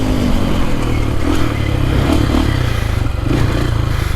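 A four-stroke dirt bike engine runs at low RPM while riding over slippery grass, a loud, steady close-up rumble with rattling and clattering, with no voices.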